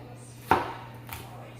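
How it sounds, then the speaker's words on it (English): Half an onion being chopped with a knife: two distinct, fairly close strikes about half a second apart, the first sharper and louder, over a steady low hum with no talking. "so I chop up my onion"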